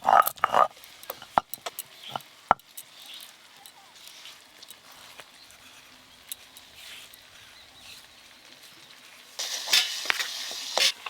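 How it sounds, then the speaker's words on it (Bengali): Chopped onion shoots going into a frying pan of spiced duck egg curry with brinjal, with scattered spoon clinks and soft sizzling, then a louder burst of frying and stirring near the end. "এবার কেটে ধুয়ে রাখা আমি পেঁয়াজ কলিগুলো দিয়ে দেবো।"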